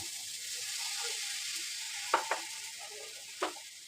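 Vegetables for a vegetable roll cooking in a pan, a steady soft sizzle throughout with a few brief stirring scrapes near the end.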